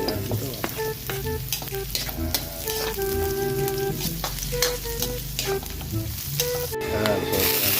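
Native garlic sizzles steadily in a hot pan for chicken tinola, a continuous close frying hiss with stirring scrapes and utensil clinks throughout, no talking.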